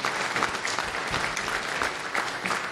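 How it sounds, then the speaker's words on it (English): A conference audience claps steadily for a Go garbage collector talk. Dense, even applause from many hands fills the room without a break for nearly three seconds. "Round of applause."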